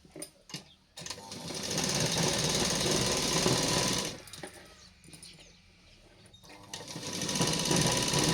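Sewing machine stitching a punjabi dress top, a loud fast rattling run of needle strokes that stops, resumes softer, then speeds up again, with no talk.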